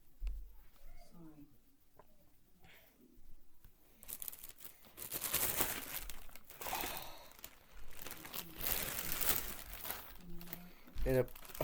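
Crinkly plastic rustling and crumpling, irregular bursts growing louder after a quiet start, close up with small handling noises.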